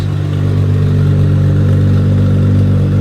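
A twin turbo Lexus engine idling with no exhaust fitted, producing a loud, steady, deep drone with a rough, even pulse at close range, and no talking.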